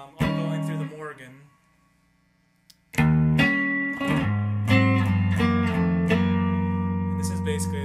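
Electric guitar played through a Morgan amp with a pedal chain, loud chords and single notes in two phrases split by a near-silent gap.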